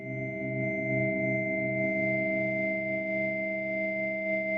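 A steady electronic tone with a pulsing low echo repeating rhythmically underneath, the repeats building and smearing together as they feed back.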